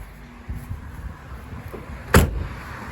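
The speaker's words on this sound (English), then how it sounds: "See how that door closed?" The door of a 1971 Chevrolet Caprice donk, a big-block car with factory AC, shuts with one solid, loud thud after a few quieter handling sounds.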